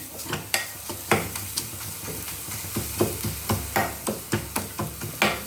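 Food sautéing in a pan: a soft sizzle with rhythmic scraping and stirring strokes of a spoon, close and fairly quiet.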